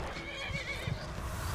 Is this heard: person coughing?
no